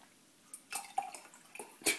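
Tea pours into a cup at close range, with a few splashy trickles and drips in quick, uneven bursts and a brighter splash at the end, and no talking.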